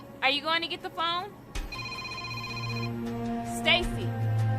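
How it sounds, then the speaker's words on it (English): A telephone rings in a home, a steady repeating electronic ring that follows brief speech and continues over a low background hum. "Are you going to get the phone?"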